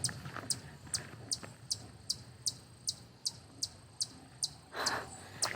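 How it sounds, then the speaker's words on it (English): Short, sharp bird chirps repeat at a steady rhythm, about two per second, over a faint outdoor background with no talking. "Do you hear that bird?"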